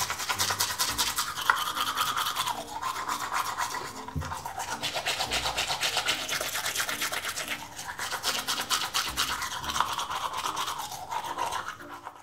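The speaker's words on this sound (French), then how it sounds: "Il ne reste plus qu'à bien lui brosser toutes ses dents." A toothbrush scrubs the teeth of a Play-Doh dentist toy in fast, continuous rhythmic strokes with brief pauses, close and steady, with no voices.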